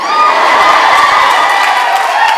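Loud crowd cheering at a stand-up comedy show, a close, sustained roar of whoops and shouts from the audience that stays full for over two seconds.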